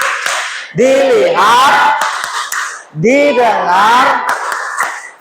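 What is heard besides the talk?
rhythmic clapping routine called tepuk fokus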